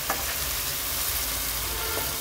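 Spices and salt stir-fried in a pan for a scribbled goby (bele fish) curry, a steady close sizzle with occasional scraping strokes of a spatula and no talking.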